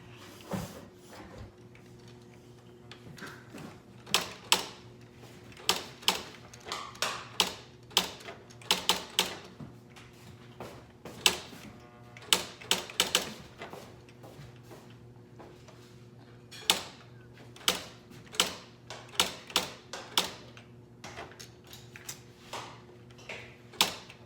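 A Smith Corona SL 500 typewriter clacks in irregular bursts of sharp keystrokes, with pauses between runs of typing and a low mechanical hum underneath.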